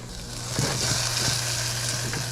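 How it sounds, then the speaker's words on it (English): Butter browning in a pan while cooking smoked Almaco Jack, a steady close sizzle and hiss with a low hum underneath and a few soft knocks, no voices. "We're gonna brown the butter up a little bit."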